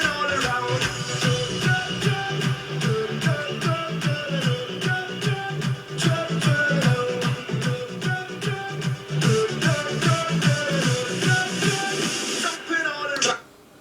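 A pop song plays through the built-in internal speakers of an Apple computer, a steady beat-driven mix at moderate volume with no talk over it, cutting off at the end.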